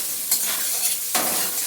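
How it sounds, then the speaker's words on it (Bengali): Taro (mukhi) fries in oil seasoned with salt and turmeric, giving a steady close sizzle broken by a couple of brief scraping stirs. "দিয়ে দিচ্ছি নুন হলুদ, দিয়ে মুখিটাকে আগে ভেজে তুলে নিচ্ছি"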